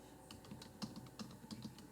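Keys clatter on a computer keyboard in quick, uneven bursts of soft clicks, typing out a description while setting up a Facebook group, close and fairly quiet, with no talking.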